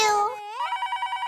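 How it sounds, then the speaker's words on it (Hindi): A telephone rings in a home setting, a repeating electronic ring pattern pulsing steadily after a voice fades out at the start. "फोन आया।"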